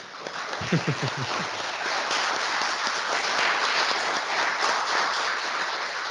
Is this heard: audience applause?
yes